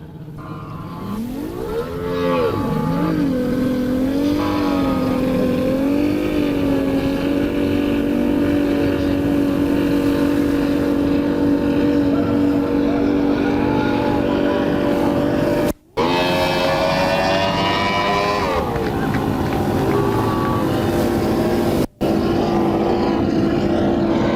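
Drag boat engines at a 1996 Winchester drag boat race roar loud and sustained, climbing in pitch early on and then holding a steady, droning howl, broken by two brief dropouts.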